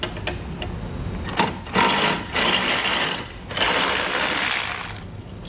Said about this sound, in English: So now we're going to take our 12 millimeter socket here and get our horn loose.